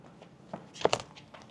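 A few short, dry crackling crunches, two sharper ones close together, as loose, lifted rooftop coating gives way underfoot, fairly quiet with no talking.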